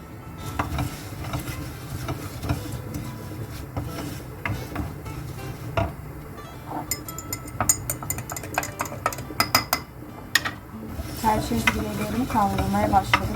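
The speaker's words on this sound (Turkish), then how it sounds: "Şimdi tel şehriyeleri kavuruyoruz." Thin vermicelli noodles being toasted in a pan for bulgur pilaf sizzle steadily while a utensil stirs and scrapes, with clustered metallic clinks and taps against the pan close by.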